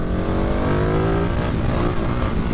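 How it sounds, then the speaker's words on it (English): A Vyrus 985 4V C3 motorcycle engine revs and drones loudly and steadily up close, its rough, throaty note rising and holding without pause. "Angry engine, grumpy as hell if you let it drop the revs like that."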